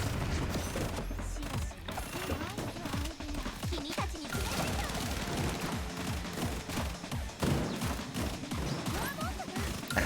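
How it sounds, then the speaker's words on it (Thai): Rapid bursts of gunfire and crashing impacts from skills in the video game Blue Archive, dense and continuous over game music with mechanical clicks. "หมุนสกิลครับ เพื่อที่ยิงซำเข้าไปหนึ่งทีแบบนี้นะครับ"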